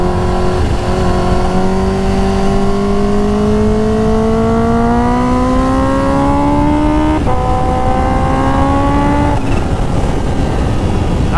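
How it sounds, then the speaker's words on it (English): A Kawasaki Ninja H2 motorcycle engine, a 250 hp bike ridden on a wet track, revs loud and close, its pitch climbing steadily through long pulls with brief shifts, no talking. "I could listen to this bike all day."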